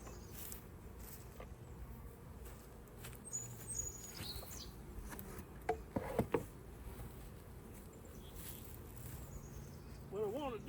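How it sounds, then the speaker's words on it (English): Honey bees buzz in an opened beehive during an inspection, a low steady drone with a few sharper close passes and clicks; a person speaks quietly at times. "And what we have is a lot of bees."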